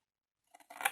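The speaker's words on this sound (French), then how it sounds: "les petits ciseaux, c'est lent pour couper des grandes longueurs comme ça" Small scissors snipping through long strips of paper or card for a polygonal box, a few quick close cuts starting after a moment of silence and building into a louder slicing rasp at the end.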